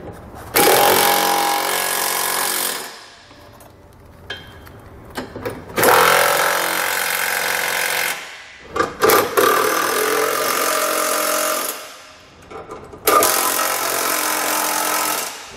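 A power tool snugs down the bolts of a Curt trailer hitch receiver on a 2020 Nissan Kicks. It runs in three loud, close bursts of several seconds each, with short pauses and faint clicks between them.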